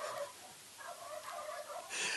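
A turkey on a farm gobbles in a rapid, rattling burst of repeated notes, moderately near and fairly quiet against a soft background hiss, with a brighter noisy swell near the end.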